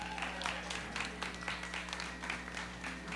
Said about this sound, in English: And a huge round of applause for Denise Benson.